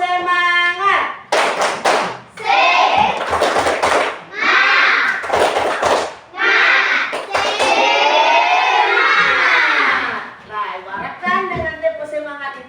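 Children in an Indonesian classroom do a rhythmic spirit clap chant, loud and close, with bursts of clapping and shouted voices alternating in a quick repeating pattern.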